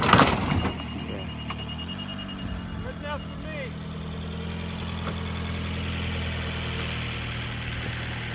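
A restarted Ford F150 pickup idles with a steady low engine rumble throughout, while people talk over it.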